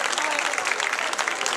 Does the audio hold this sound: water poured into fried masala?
no